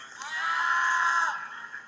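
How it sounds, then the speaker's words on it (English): A man on the ground screaming in pain during a police arrest on a city street, one sustained, strained cry lasting over a second, captured somewhat distantly on a phone recording. "He's screaming in apparent pain."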